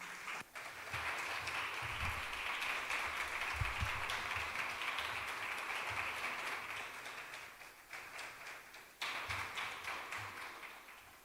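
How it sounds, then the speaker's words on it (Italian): Church congregation applauding during an Italian worship service after a baptism announcement, sustained dense clapping that fills the hall for about ten seconds, with brief dips and a short renewed burst near the end. "Possiamo riceverli con un bel applauso."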